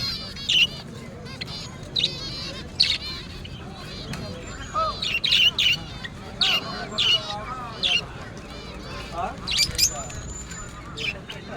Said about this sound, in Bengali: ছোট্ট ছোট্ট পাখি এগুলা।